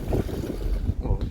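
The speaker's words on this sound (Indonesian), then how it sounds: "Ini kapal sudah mulai cikar kiri." Aboard the ferry KMP Portlink V at sea, low engine and water rumble mixes with buffeting wind noise across the microphone, steady and fairly loud, with faint indistinct voice-like murmurs.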